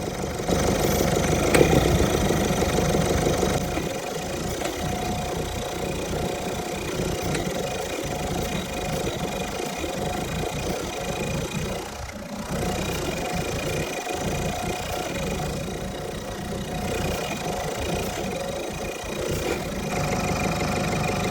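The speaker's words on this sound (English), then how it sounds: "You don't want to spray enough to stall the engine, so just be careful how much you're spraying." Ford Fiesta engine idling steadily while intake cleaner is sprayed, a close mid-pitched hum with slight roughness and brief dips in the running.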